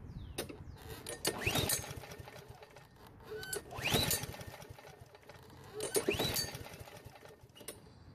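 Weedeater riding mower engine cranked by its starter during a compression test, three separate bursts of rapid chugging rising and fading, close and moderately loud with quiet gaps between.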